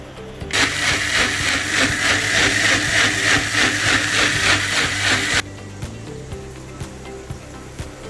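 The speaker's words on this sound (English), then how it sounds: "I'm going to grind this into a very thick paste." A blender grinds chillies into a thick sambal paste, a loud steady whirring roar with a pulsing rhythm that runs for about five seconds, then cuts out to a quieter background hum.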